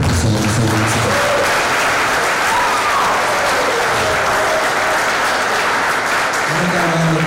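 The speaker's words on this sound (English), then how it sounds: "Please, a round of applause for Professor Ogunsanwo." A large audience at a formal university lecture event applauds steadily and loudly for the full duration, a dense, continuous wash of clapping with no speech over it.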